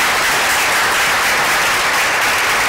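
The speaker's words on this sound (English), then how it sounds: "A round of applause for our champions." An audience bursts into loud, dense applause for volunteer champions standing up, steady close clapping that fills the whole moment without any talk over it.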